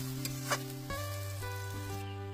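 Nigella seeds and green chilies crackle and sizzle in hot oil while tempering, a steady close frying hiss with a few sharp pops near the start and no voices.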